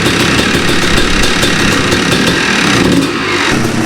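Old, reliable dirt bike engine with a bent radiator, running loud and close after a kick start. It keeps a rough, steady idle throughout, with a slight dip near the end.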